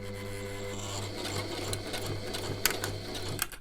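A sewing machine stitches a face mask with the bobbin nearly empty, giving a steady, quiet mechanical whir that runs continuously and alone, with a few faint clicks near the end.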